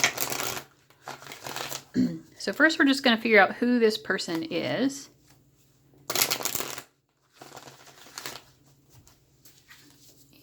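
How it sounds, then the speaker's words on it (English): A deck of tarot cards is riffled and shuffled on a leg in several quick bursts, close and soft, with a person talking between them. "I'm going to shuffle it on my leg, first of all, so that it doesn't be so it's not so loud on the table"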